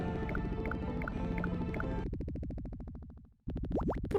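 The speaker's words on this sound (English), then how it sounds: "Bubbles! They sound like bubbles." Bubbling water in a video game: a fast run of rapid, dense bubbly pops that slows and fades, a brief silence, then a fresh bubbly surge with rising gurgles, loud and close over faint game music.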